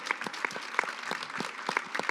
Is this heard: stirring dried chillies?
no